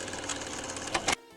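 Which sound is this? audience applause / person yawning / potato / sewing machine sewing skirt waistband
sewing machine sewing skirt waistband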